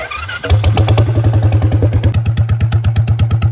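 A Royal Enfield Bullet motorcycle engine starts up loudly nearby and settles into a steady, heavy thumping idle with an even, rapid beat.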